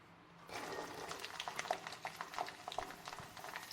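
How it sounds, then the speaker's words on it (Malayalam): Garlic sizzles and bubbles in hot coconut oil for a Kerala-style dates and lime pickle, a steady crackling fry that starts after a brief quiet moment and continues close and moderately loud, with no talking. "എണ്ണ ചൂടായി വന്നതിന് ശേഷം നമുക്ക് വെളുത്തുള്ളി ഇട്ട് കൊടുക്കാം."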